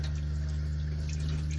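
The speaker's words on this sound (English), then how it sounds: "Just rinsing them with some water." Water runs from a small bus sink tap over butter beans in a sieve, a steady close trickle over the constant low hum of a water pump.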